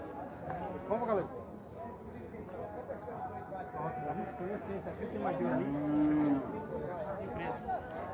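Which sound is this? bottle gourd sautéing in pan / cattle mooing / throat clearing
cattle mooing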